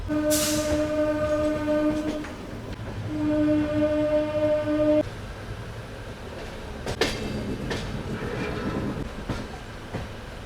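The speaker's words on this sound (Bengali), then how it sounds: "আমার ট্রেন ছেড়ে দিল পুরী রেল স্টেশন থেকে" A train sounds two long, steady horn blasts, then wheels rumble and click along the track as it pulls away from Puri railway station in the rain.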